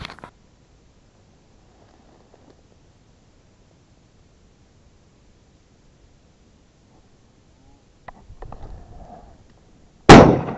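A single loud shotgun blast goes off abruptly at the end, after a long near-silent stretch and some faint rustling, during a song thrush hunt in North Cyprus.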